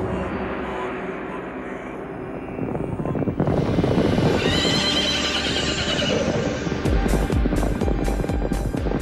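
Horses whinny loudly at a Mongolian horseback show, with hooves pounding in a fast clip-clop near the end over a steady, roaring crowd-and-performance din.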